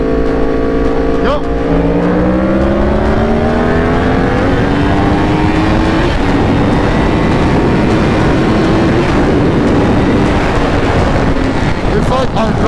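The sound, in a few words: Yamaha R1 superbike accelerating hard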